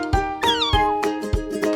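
A cat meows several times in quick succession, close and clear, over a light rhythmic musical backing.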